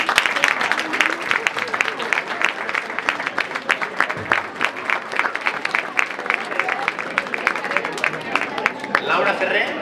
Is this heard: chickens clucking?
no